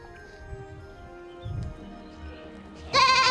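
Goats in a rare breeds farm barn give a sudden loud, close bleat that bursts out near the end, after a stretch of quieter background animal noise and shuffling.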